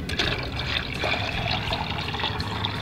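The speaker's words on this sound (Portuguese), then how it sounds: "Completar tudo aqui com água." Water poured to fill a bucket while watering medicinal herb plants, a close, continuous splashing trickle that runs steadily without pause and without voices.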